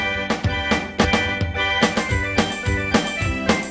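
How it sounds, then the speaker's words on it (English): MIDI arrangement of a sailor's hornpipe played on synthesized strings and flutes: a brisk, steady rhythmic tune with regular note attacks, alone and without voices. "And you'll hear a flute playing against string with responses."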